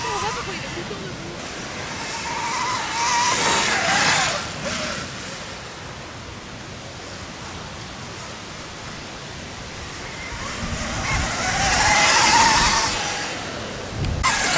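A Drill One Evo electric enduro motorcycle accelerates, its airy electric whoosh swelling in two distinct surges with a quieter stretch between, close and fairly loud against an open outdoor background.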